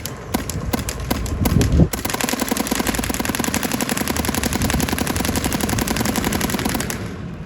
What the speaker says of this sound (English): I'm gonna shoot the little black dot on the wall.